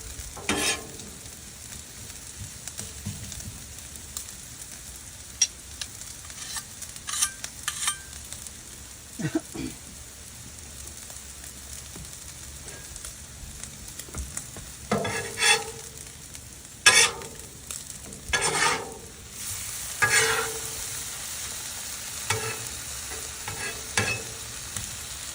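Mushrooms sizzle on a hot Blackstone flat-top griddle, a steady crackling fry with repeated bursts of scraping and stirring from a spatula, moderately loud and close, no talking.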